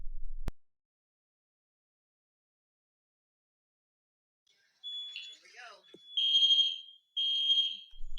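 A building fire alarm at a community center sounds with loud repeated electronic tones, starting partway through after a silent stretch, in steady bursts separated by a brief gap.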